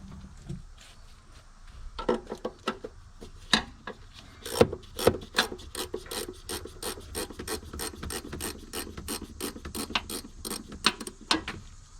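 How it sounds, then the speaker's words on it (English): A ratchet wrench loosens a shock hardware joint on the front axle of a Jeep, its rapid clicking coming in long steady bursts with a few sharper knocks, close and with no one talking. "So I'm just going to start loosening this joint."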